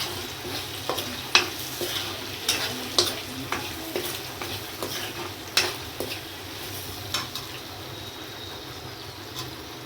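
Chili and turmeric powder are stirred into masala frying in a kadai: a spoon scrapes and taps the pan in irregular strokes over a constant close sizzle.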